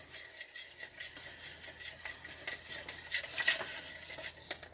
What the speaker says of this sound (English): let's go ahead and give this a stir